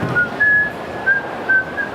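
Audience whistling rings out at a comedy show in Christchurch, several short high whistles repeating over a low murmur of crowd noise.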